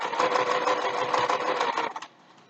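Sewing machine running steadily as it stitches a scant quarter-inch seam on a fabric mask, a dense continuous whir close by that stops abruptly near the end.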